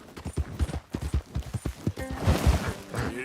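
A horse in Red Dead Redemption 2 sets off at a run, its hooves beating a rapid, close clip-clop rhythm, while a soft snort or whinny and brief rider sounds come in near the end.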